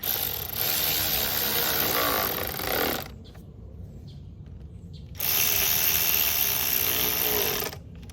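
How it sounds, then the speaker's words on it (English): Bolts on a Lexus/Camry throttle body are tightened with a ratchet, two runs of steady close clicking separated by a quiet pause. "And then let's tighten this up."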